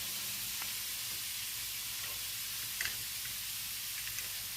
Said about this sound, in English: while we're waiting on the meat to brown